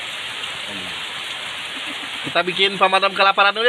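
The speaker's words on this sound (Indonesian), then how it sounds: "Hujannya lebat sekali" Heavy rain drums steadily on a hut roof amid rice fields, a dense continuous hiss throughout, with a thunderstorm around; partway through, a person begins talking over the downpour.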